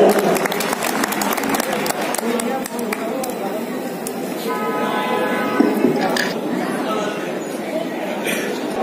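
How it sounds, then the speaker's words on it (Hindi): Loud applause from an audience welcoming a guest at a journalists' honour ceremony held at the Aligarh exhibition, steady clapping throughout with voices and chatter mixed in. "जोरदार तालियां"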